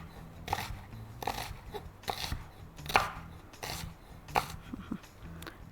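Onion being cut into slices with a knife, a series of distinct close chops about every half second over a soft background.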